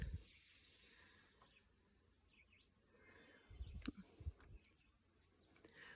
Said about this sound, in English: Right now, it's so quiet here, just the birds are singing.